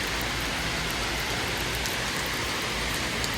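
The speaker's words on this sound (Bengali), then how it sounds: "আজকের ভিডিওটা শুরু করেছি আল্লাহর রহমতের বৃষ্টি দিয়ে।" Steady, dense rain pours down during a rainy spell at home, a continuous even hiss that stays close and unbroken, with no voices.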